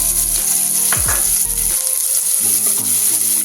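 Onion fries loudly in hot oil in a pressure cooker, a dense, constant sizzle broken by stirring and an occasional metal scrape.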